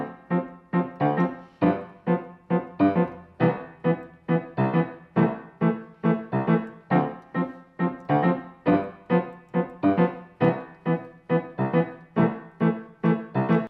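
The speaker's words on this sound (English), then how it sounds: "Syncopation, it's called. Level 4 sounds like this." A piano plays a steady stream of short, detached chords with off-beat accents, the rhythm bouncing evenly for several seconds with no voices.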